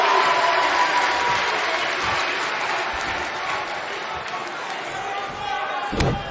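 Arena crowd roaring steadily in the WWE 2K19 wrestling game, a dense loud wash of cheering throughout with a sharp impact thud near the end.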